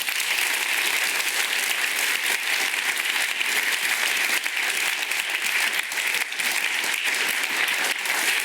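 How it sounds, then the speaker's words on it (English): Large audience at a healthcare innovation pitch event delivers a long, steady round of applause, dense even clapping sustained for over eight seconds without speech. "So join me and give them a huge round of applause."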